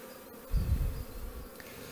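Honeybees buzz around a small nucleus hive box, a faint steady hum that swells briefly louder midway, then settles, with no voices.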